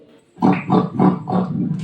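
A human voice imitates a pig, giving four rhythmic grunting squeals in quick succession, loud and close, with no other talk.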